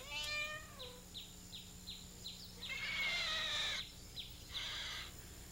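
A cat on an old Jersey farm with a cobbled courtyard meows repeatedly, close and clear, with a longer drawn-out cry midway among short repeated chirps; no talking.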